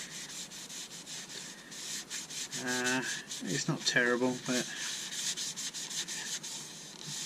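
Close, rhythmic scratchy rubbing of sandpaper against a beech wood bowl on a lathe repeats steadily, with a person briefly speaking over it midway.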